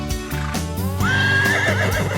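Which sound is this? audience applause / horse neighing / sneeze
horse neighing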